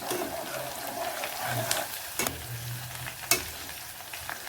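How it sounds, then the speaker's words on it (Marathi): Long-sliced onions fry in a pan for a cauliflower-potato curry, a continuous close sizzle broken by a few sharp scrapes and knocks of a spatula against the pan. "त्यानंतर कांदे चांगले परतून घ्यायचे आहेत"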